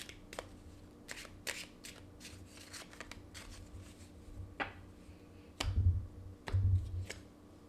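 A deck of cards shuffled by hand in a quiet room, a series of soft riffling flutters and light taps ending in two louder thumping riffles, with no talk.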